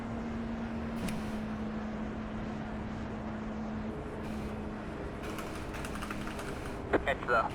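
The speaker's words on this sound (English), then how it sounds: "Typing in Discord while I'm doing nothing out here on the track." Computer keyboard typing while idling in an iRacing K5 IndyCar Series race at Auto Club: rapid light key clicks scattered over a steady racing-engine drone and hum, with a few louder taps near the end.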